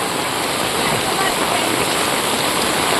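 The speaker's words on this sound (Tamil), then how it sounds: "பாருங்கள் எவ்வளோ தண்ணி போய் பாருங்க இங்கே எவ்வளோ மழை பெஞ்சாலும் தண்ணி அதிகமாக வந்தாலும்" Rainwater from heavy rain runs in a small stream near a village, a loud, constant close rushing wash with no breaks.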